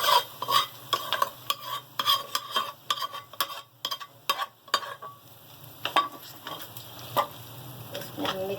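Chana biryani masala is stirred into fried golden onions for a Karachi-style degi chana biryani, with a steady sizzle under frequent sharp scraping and clinking strokes of a spoon.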